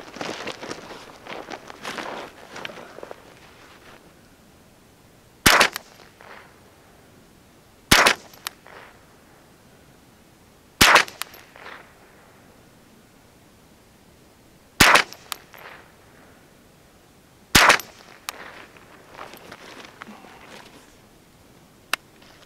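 Ruger 10/22 rifle fired while zeroing on an outdoor range, five sharp single shots spaced several seconds apart, loud and close, after a stretch of faint rustling.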